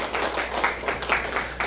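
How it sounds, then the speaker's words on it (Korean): A church congregation claps together, a brief burst of uneven applause from many hands in a large room, rising and falling in short waves. "우리 서로를 위해서 박수 한번 할까요?"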